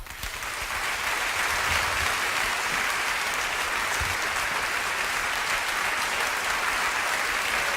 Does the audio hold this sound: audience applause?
yes